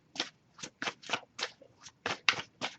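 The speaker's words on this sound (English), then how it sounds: "So I'll give it a few more shuffles" Tarot cards being shuffled by hand in a series of about nine crisp, riffling bursts with short gaps between them, close and fairly quiet, no voices.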